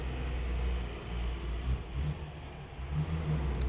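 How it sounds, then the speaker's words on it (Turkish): Street traffic with a car engine running along a busy avenue, a steady low rumble with a slight revving swell that stays fairly loud and continuous throughout. "Yine aynı o araba sesi maalesef."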